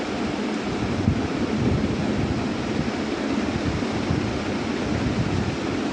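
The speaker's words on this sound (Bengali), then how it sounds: "ভালো করে লাল লাল করে আমি এই লাচার সময়টা ভেজে নেব ঘিয়ের সাথে" Lachha semai vermicelli frying in ghee until crisp and reddish, a dense, even hiss of sizzling that stays loud and unbroken from start to finish.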